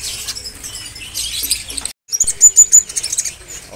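A kolibri ninja bird from Sulawesi at a bird market gives loud, close, rapid high chirps and twitters in quick bursts, broken by a brief silent gap before the calls resume.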